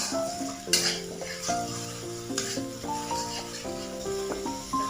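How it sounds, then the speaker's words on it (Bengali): Mustard and poppy seed paste fries in hot oil for a mustard hilsa curry, a steady soft sizzle with light stirring scrapes running under louder melodic background music. "সর্ষে পোস্ত যেটা পেস্ট করে নিয়েছি সেই মশলাটা ছাঁকনি দিয়ে নিয়েছিলাম, সেটাই আমি এখানে ইউজ করবো। ভেজে নিই।"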